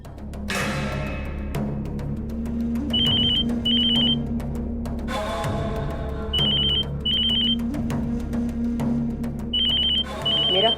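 A telephone rings in repeated short electronic bursts, several pairs of trills spread across the clip over a steady low hum and background music, with no talking.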